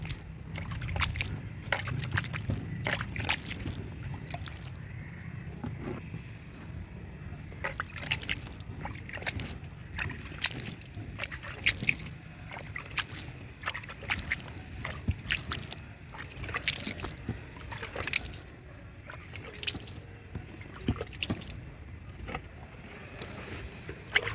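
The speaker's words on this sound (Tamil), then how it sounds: "இப்போ தண்ணி தெளிச்சிக்கலாம்" Water is sprinkled by hand over freshly sown coriander seeds in soil in a pot, giving soft, irregular patters and trickles, close by and fairly quiet throughout.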